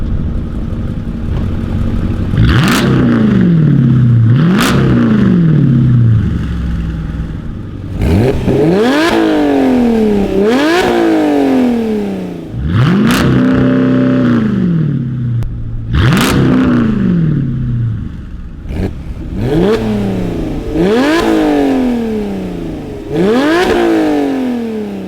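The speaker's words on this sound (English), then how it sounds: "She's gonna rev, then I'm gonna rev, and then she's gonna rev again." A straight-piped SRT8 and a loud Porsche take turns revving hard, each blip rising sharply then falling, about seven loud close bursts over a steady idle rumble.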